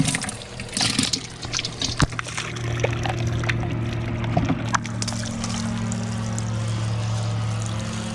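Fish, bluegill and longear sunfish, are released from a parking-lot bank into deeper water, with splashing and pouring water over a steady low engine-like drone, no speech.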